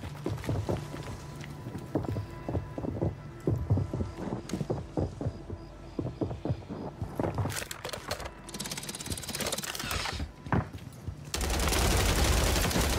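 Rapid gunfire from a Call of Duty Warzone match, with bursts of close, sharp shots and clattering footsteps, then a louder dense roar of noise at the end, no talk.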